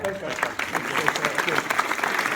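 An audience at an entrepreneurs' event in Brisbane applauds, a steady patter of clapping hands that runs throughout while someone briefly speaks over it.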